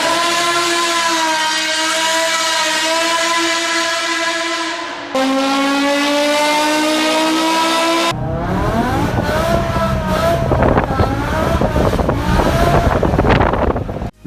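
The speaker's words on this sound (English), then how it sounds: "That engine is often given the title of the best sounding V10." A BMW naturally aspirated 5-liter V10 engine revving loudly and alone, a sustained high rising howl that holds steady, drops briefly, then gives way to rapid blipping revs with crackling overrun.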